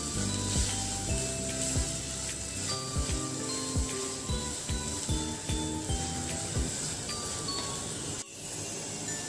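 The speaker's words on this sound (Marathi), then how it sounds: "मसाला आपला परतून झालेला आहे" Spice paste for a chicken masala sizzles in a pan over medium heat, a steady frying hiss broken by rhythmic clinks and scrapes of a spoon stirring against the metal.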